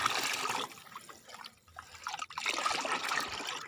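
Kitchen waste liquid of rice-rinse water, curd and sour buttermilk is poured onto a rose plant's soil, a soft trickling and splashing that dips briefly midway before resuming, quiet and close.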